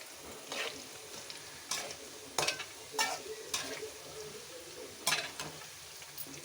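Quiet frying sizzle of onions and garlic in a pan runs under a few sharp scraping strokes of a spatula stirring, spaced irregularly, no voices.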